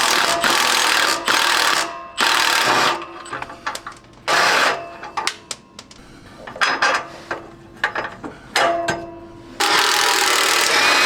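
A Milwaukee Fuel power tool runs in repeated loud bursts, spinning off exhaust bolts on a VB Subaru WRX, with short pauses and clicks between the runs.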